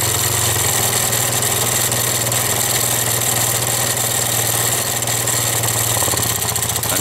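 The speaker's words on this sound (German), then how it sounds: "Seht ihr, dass der Motor läuft" Scooter engine idling steadily and loudly nearby, from one of an MBK, Vespa or Piaggio, with a constant low rhythmic hum and a harsh mechanical clatter running unbroken throughout.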